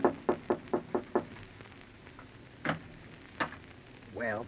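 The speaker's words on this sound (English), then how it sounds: "you go upstairs and knock on the door." Five sharp, evenly spaced knocks on a door open a radio drama scene, followed by a few scattered thuds and a short voice near the end.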